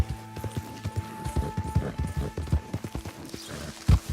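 A horse gallops in Red Dead Redemption 2, its hooves pounding in a fast, steady, loud rhythm close up, with a short whinny-like note near the end.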